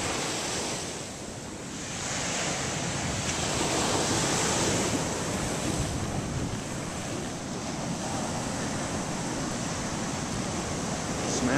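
Ocean surf breaks continuously along a beach where surfers wait for waves, a loud steady roar with wind buffeting the microphone.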